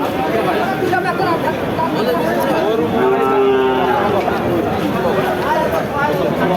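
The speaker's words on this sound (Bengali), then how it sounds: "সিন্দি জাতের একটা গরু দেখতে পাচ্ছেন" A Sindhi breed cow lows at a busy cattle market, one drawn-out moo rising over steady crowd chatter and nearby voices.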